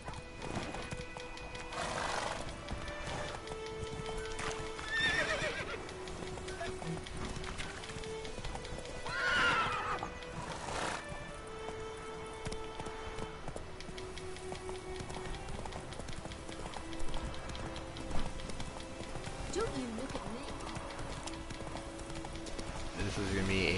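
Roach, the horse in The Witcher 3: Wild Hunt, gallops with quick rhythmic hoofbeats and gives several loud neighs and whinnies, layered over in-game music with occasional speech.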